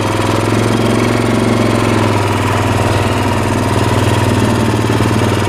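A 2000 Lakota motorcycle engine runs steadily on its first ride, a loud, close, continuous low rumble with a throbbing mid-range tone and constant vibration throughout, with no voices.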